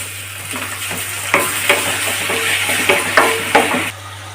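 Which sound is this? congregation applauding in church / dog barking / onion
onion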